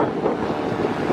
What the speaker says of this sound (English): Wow, look at those waves